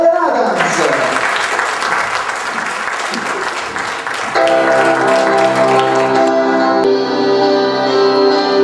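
An audience at a live singing contest final applauds after a ballad. Dense clapping fills the first half, then music with sustained tones starts and the applause continues more faintly beneath it.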